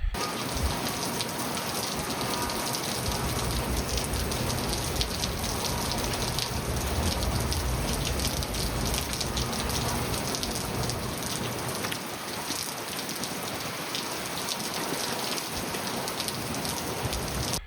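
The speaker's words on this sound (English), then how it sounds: "And then more rain. I should say more cold rain." Steady cold rain pours down through the whole stretch, a dense, even hiss of drops hitting surfaces with no talk and no breaks, loud and close throughout.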